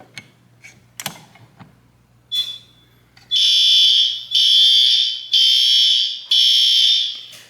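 A garage fire alarm pull station, activated with a hex key, first gives faint clicks and creaks, then sounds four loud, evenly spaced shrill alarm bursts of about one second each.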